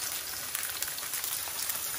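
Courgettes frying in oil give a soft, steady crackling sizzle, an even close hiss speckled with tiny pops and no voices.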